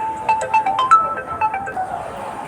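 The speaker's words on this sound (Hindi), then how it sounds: "1 मिनट, फ़ोन आया है।" A phone's ringtone sounds for an incoming call, a melodic run of short electronic tones playing close and moderately loud over faint background noise, with no talk.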